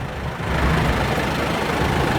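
A Kia Frontier 1.3-ton truck with an aftermarket turbo fuel-saving device and muffler idles steadily after starting, a low, even engine rumble heard up close.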